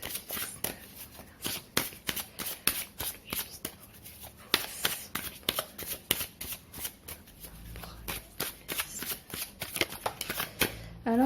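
Tarot cards are shuffled by hand at close range in a quick, steady run of crisp riffling flicks and soft slaps, fairly quiet, with a brief murmur of speech at the end.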